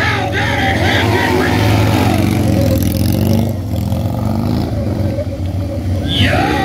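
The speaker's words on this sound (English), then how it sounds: "Gino Lenotti jumping up to some stand-up burnouts" Harley-Davidson motorcycle doing stand-up burnouts at a stunt show, a loud sustained engine roar with rising and falling revs, heavy under crowd noise and an announcer's voice.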